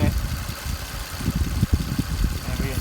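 A Toyota Lexus car engine idles with the engine running during a transmission fluid check, a steady low rumble close by, with faint irregular knocks over it and no talk.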